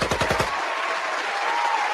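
A gunshot sound effect: a quick burst of several rapid shots, loud and close, that decays into a noisy, rushing wash.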